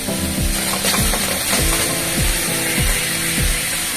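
A ginger, garlic, onion, tomato and cumin paste sizzles loudly in a pan, with a constant close frying hiss and a rhythmic scraping of stirring about every half second.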